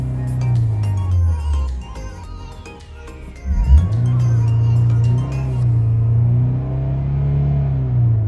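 A car engine with a suspected faulty mass air flow sensor revs unevenly and will not climb past about 4,000 rpm, the loud rumbling note rising, dropping sharply and surging again as the accelerator is pressed, with voices murmuring nearby.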